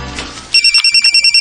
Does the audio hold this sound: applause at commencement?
no